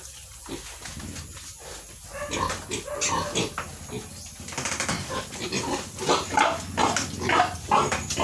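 Pigs, a sow with her piglets, on a farm pen make continuous grunts and squeals of moderate loudness that grow busier toward the end, with a voice talking faintly underneath.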